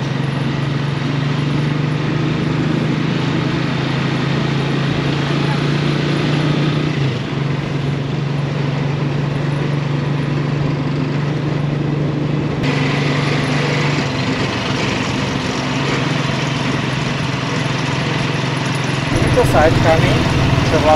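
Motorcycle with a sidecar, a tricycle, runs on a street in Angeles City, Philippines, its steady engine drone holding near and loud for the full stretch, with a brief shift partway through and traffic noise around it.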